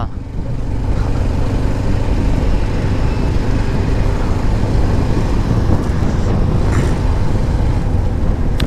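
Motorcycle riding along a road: a continuous loud engine rumble mixed with heavy wind buffeting on the microphone, steady throughout with no talking.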